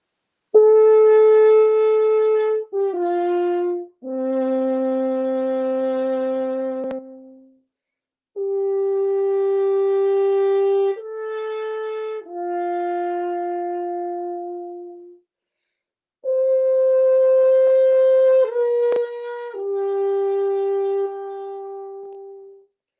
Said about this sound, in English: This is actually an alp horn call